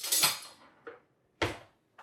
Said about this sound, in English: And then we can just take a spoon and scrape this out.